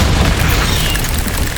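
Continuous loud booming blast from the Bombarda explosion spell in the video game Hogwarts Legacy, a dense rumbling burst filling the whole moment.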